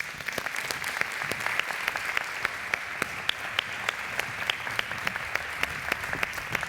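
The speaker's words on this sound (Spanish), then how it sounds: "Un aplauso para ellos." Applause from an audience at a traditional costume festival in Zamora, Spain, greeting the models. Steady, fairly quiet, sparse hand claps with a few sharper individual claps standing out, continuing evenly throughout.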